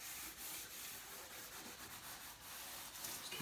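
Steel wool soaked in vinegar stain is rubbed into wood grain, a steady close scratchy scrubbing with rhythmic back-and-forth strokes and no talk.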